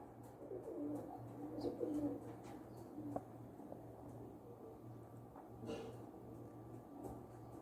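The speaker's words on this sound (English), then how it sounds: "This is a birds." Pigeons or doves coo softly amid a steady low outdoor hum, with occasional faint chirps from other birds mixed in.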